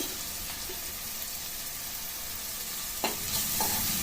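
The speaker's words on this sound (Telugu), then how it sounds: "ఆనియన్ ఎర్రబడరకు కలుపుకొని పెట్టుకోవాలి" Sliced onions and green chilli with turmeric and salt sizzle steadily in hot oil for a brinjal curry, with a spoon scraping the pan in a couple of brief stirs near the end.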